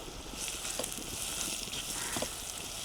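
Dried red chilies, garlic and ginger temper in hot oil for egg dal, giving a soft, steady sizzle with scattered small crackles. The sizzle is fairly quiet and close, with no talking.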